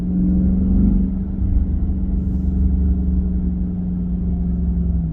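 A 2023 Chrysler 300C with its 6.4-liter HEMI V8 cruising, a steady deep exhaust drone and engine rumble heard from inside the car, with a brief swell near the start before settling into an even hum.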